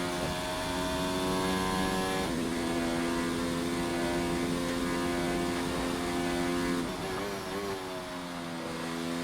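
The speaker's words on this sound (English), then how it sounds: "Oh, that Ferrari. That Ferrari engine." Ferrari racing car engine in a racing video game at the Italian GP, a loud sustained high-pitched whine that shifts pitch through gear changes, with no talk over it.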